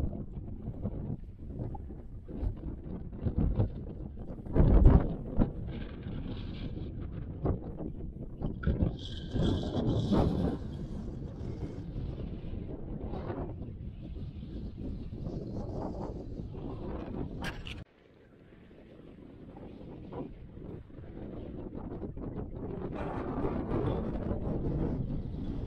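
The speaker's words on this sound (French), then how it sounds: "il y a un vent de malade et il fait vraiment même très froid" Strong, cold wind buffeting the microphone over a wheat field, a continuous rough roar with gusts that swell and drop, briefly cutting off before rising again.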